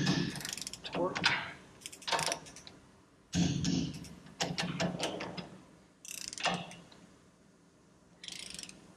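Torque wrench tightening suspension bolts on a 1967 Shelby GT500 during restoration, heard as several separate bursts of close mechanical ratcheting clicks with short pauses between pulls.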